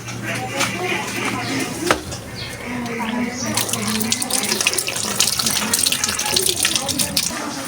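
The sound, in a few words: water running for a bath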